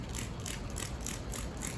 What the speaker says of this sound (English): So I'm going to spray this real quick.